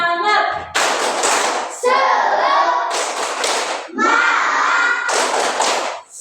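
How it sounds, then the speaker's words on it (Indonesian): A classroom group, children with their teacher, does a rhythmic clapping cheer, bursts of patterned hand claps and thumps alternating with chanted voices in a loud, close, lively sequence. "Tepuk semangat ya. Tepuk semangat."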